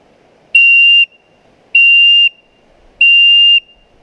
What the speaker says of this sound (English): I'm giving him whistles and he's whistling back